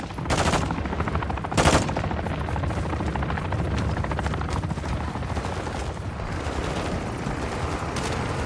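Helicopter in a Call of Duty game mode, a loud continuous rotor thump filling the scene, with bursts of gunfire cracking sharply early on and no voices over the steady roar.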